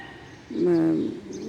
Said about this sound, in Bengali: আপনি মোরকের ডাক শুনতে পাচ্ছেন পাখির কলতান শুনতে পাচ্ছেন